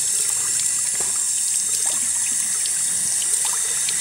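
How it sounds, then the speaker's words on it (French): Shower water running before a concert, a close continuous trickle and splash of water with small droplet sounds, no talking. "Une pré-douche."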